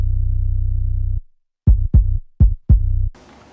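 An 808 bass sample with no effects, played in FL Studio: one long sustained boomy note, then four short punchy hits in quick succession, heard alone and close.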